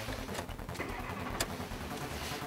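An off-road vehicle's engine runs at a steady mid-pitched drone as it creeps away in first gear on low range, with a broad rumble and a faint clack partway through, close by and without voices.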